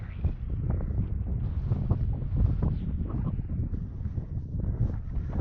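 Strong, cold mountain wind in Glacier National Park buffets the microphone in continuous rough gusts, a loud, blustery roar that fills the whole clip.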